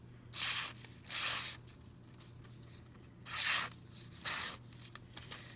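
A sharp knife edge slices through thin telephone book paper, giving four distinct bursts of crisp hissing, tearing cuts separated by short pauses, close up over a faint steady hum, with no talking.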